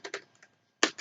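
A few quick keystrokes on a computer keyboard click close by in an uneven rhythm, with short gaps between them and no other sound.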